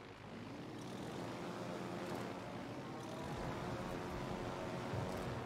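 Torpedo bomber engines in World of Warships Legends drone as a steady, fairly faint aircraft hum with some swelling rumble, continuous and without voices.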